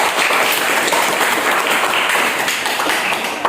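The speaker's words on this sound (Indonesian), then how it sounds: "tepuk tangan pada kawan kita" Classroom applause for a student, a loud, dense burst of many hands clapping steadily for a few seconds with no voices over it.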